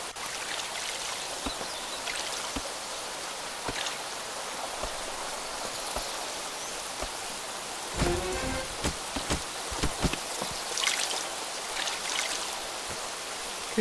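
Water gathering in the colony building game Craft The World, a steady trickling, rain-like patter running throughout with a few louder splashy drips near the end, no voices.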